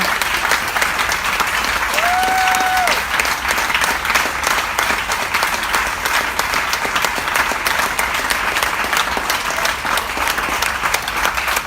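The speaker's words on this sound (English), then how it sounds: "Everybody give a round of applause, please," A crowd at a live podcast event keeps up loud, steady applause for nearly twelve seconds, many hands clapping together in an even wash, with a brief whistle-like tone near the start.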